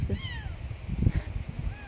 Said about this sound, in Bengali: সকাল থেকে দেখতেছি এই জায়গায় একটা বিড়াল কান্না করতেছে।